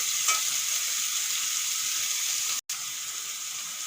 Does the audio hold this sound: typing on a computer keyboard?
no